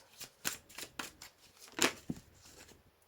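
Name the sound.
drawing a tarot card from the deck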